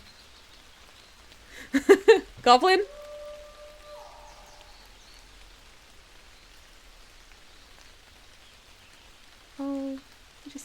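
Steady soft rain falls in a video game, a faint continuous patter throughout, broken by brief loud effects and a short spoken word near the start and a tonal chime near the end.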